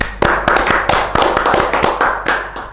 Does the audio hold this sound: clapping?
yes